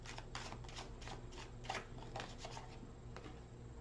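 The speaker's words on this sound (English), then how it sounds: "Off the top of the deck, one more shuffle." A deck of tarot cards being shuffled, a series of quick papery riffles and flicks, close and fairly quiet, with no talking.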